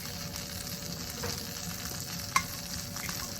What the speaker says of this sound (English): I'm just going to just literally pan fry them off in a bit of butter, black pepper and garlic